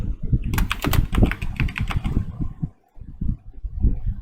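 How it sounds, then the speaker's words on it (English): Fingers tap rapidly on a computer keyboard, a close run of crisp key clicks with a short pause before a few more keystrokes follow. "Now I type the name and the address."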